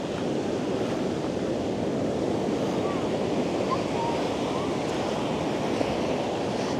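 Sea waves wash on the beach at Paysawan in Bagac, Bataan, making a constant, fairly loud surf roar with wind noise and no distinct breaks between waves.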